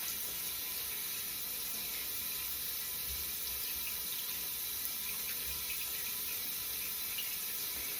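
Paint brushes rinsed under a running tap: a continuous, even hiss of water pouring steadily into a sink, fairly quiet and unchanging throughout, with no voices.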